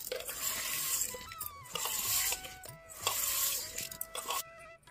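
Fish curry stirred slowly in a cooking pan, a soft scraping and swishing of a ladle through thick gravy, steady and close with faint clinks against the metal.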